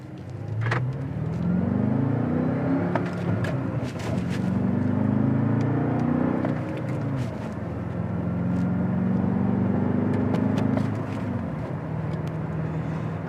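A 2014 BMW M5 Competition with a manual gearbox pulls away from rest, its engine note rising through loud sweeping revs as it climbs through the gears, each sweep dropping at a shift, with a steady road rumble underneath and no talk.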